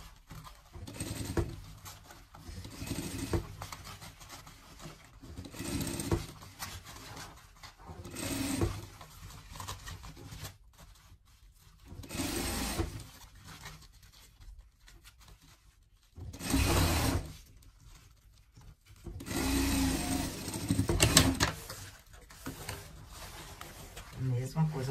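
A sewing machine stitches fabric for a pet car seat in several short runs of soft mechanical whirring, close but fairly quiet, separated by pauses and interleaved with someone talking.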